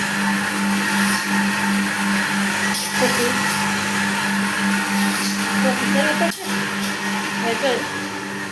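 An electric home flour mill (ghanti) grinds with a steady, loud motor whine and hum that runs unbroken throughout, with faint voices in the background.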